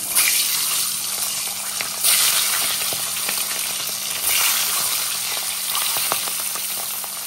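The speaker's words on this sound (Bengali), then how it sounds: "তেল গরম হয়ে গেছে, এখন ডিমগুলো দিয়ে দেব" Eggs frying in hot oil hiss loudly and up close, the sizzle swelling in surges every couple of seconds with no talking.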